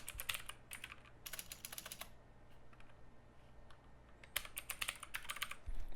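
A computer keyboard clicks in quick bursts of typing as a file name is entered, with short pauses between the flurries, close and fairly quiet.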